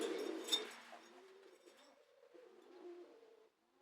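Soft, low pigeon cooing with gentle rising and falling murmurs, close by, following a brief burst of rustling at the start.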